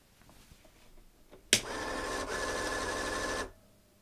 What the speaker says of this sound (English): Let me turn off the printer